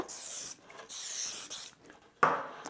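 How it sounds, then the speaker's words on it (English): CA glue accelerator sprayed along lines over wood strips while making wooden Christmas star decorations: two long hissing spray bursts close up, then a shorter, sharper burst after a brief pause. "spraying accelerator along these two lines that I've lined up with those strips"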